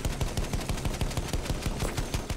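Rapid enemy gunfire in a World War I shooter on the Monte Grappa map, a dense, even stream of loud automatic shots rattling without pause, close and alone.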